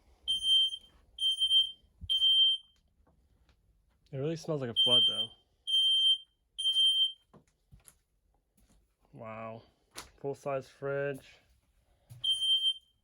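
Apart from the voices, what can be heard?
RV alarm system going off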